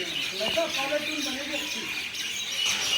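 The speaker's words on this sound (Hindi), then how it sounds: "सुन रहे हैं चिड़ियों की चहचहाट।" Birds chirp and twitter softly in the background at Udhampur railway station, with scattered high calls over a steady ambient hiss.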